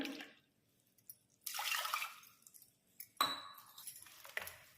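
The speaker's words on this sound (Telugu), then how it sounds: "ఇలా క్లీన్ చేసుకున్నటువంటి కందిపప్పులో 2 గ్లాసుల వాటర్ పోసుకోవాలి" Two glasses of water are poured into washed toor dal in a pressure cooker, coming as several short splashing bursts separated by quiet gaps, with faint clinks of the pot.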